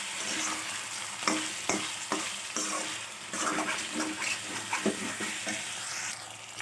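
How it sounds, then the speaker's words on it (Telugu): Mutton fries in oil in a pan, a steady sizzle broken by repeated scraping clicks of a spoon stirring the meat, close and moderately loud with no talking. "స్లో పెడతాం ఒక 5 నిమిషాలు. కింద పట్టేస్తూ ఉంటుంది, కొంచెం మిక్స్ చేసుకునండి."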